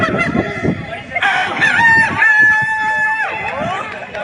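A person mimics a rooster's morning cock-a-doodle-doo, a loud close crow that rises, holds a long sustained note and drops off at the end, preceded by some brief mouth and breath noises.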